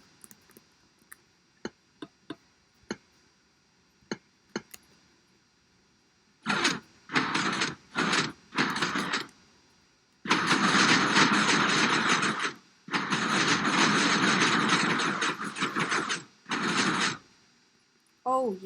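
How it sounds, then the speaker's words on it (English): A double piston extender garage door in a block-building video game runs through its cycle: a few soft ticks, then several short bursts of loud mechanical clatter followed by two long, dense grinding runs, close and prominent. "I'm pretty sure that that will be a double piston extender right there"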